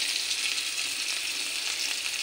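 Chopped onions fry in a pan with a steady, close hiss of sizzling oil, even and continuous with no talk.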